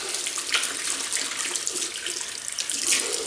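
Tap water runs steadily while Wilkinson Sword Blue shaving soap is wetted. It makes a continuous close splashing hiss with small surges throughout and no talking.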